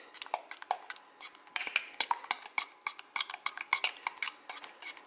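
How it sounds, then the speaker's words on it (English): A spoon scraping and clinking in a bowl or pot as macaroni is mixed into cheese sauce for southern mac and cheese, with quick irregular taps repeating steadily and close by, no voices. "You can just go ahead and stir that together."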